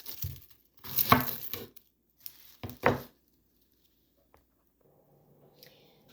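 A knife chops onion into tiny pieces on a board, sounding as a few short bursts of crisp crunching strokes separated by pauses, close up, with a faint voice at the end.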